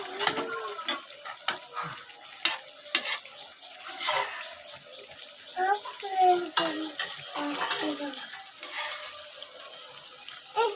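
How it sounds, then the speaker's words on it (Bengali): Prawns being fried for doi chingri, with sizzling oil, a utensil stirring and scraping against the pan and occasional clinks, close and steady throughout. "চলো এবার চিংড়িটা ওর মধ্যে অ্যাড করে দেবো।"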